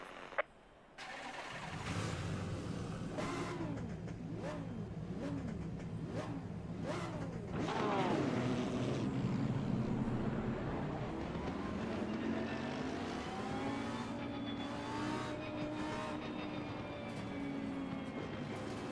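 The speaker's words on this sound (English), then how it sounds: "I do like the sound of this engine. It has a really nice note that kind of reverberates with me." Lamborghini Huracan GT3 Evo race car engine in Assetto Corsa Competizione at Zandvoort fires up after a brief click, then revs repeatedly through rising and falling sweeps before settling into a loud, sustained roar, with no speech.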